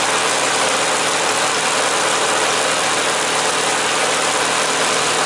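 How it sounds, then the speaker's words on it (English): Car engine idling steadily with a loose, vibrating timing belt, a constant dense mechanical drone with a broad rattling hum at close range and no talking. "Look at how much this belt is vibrating."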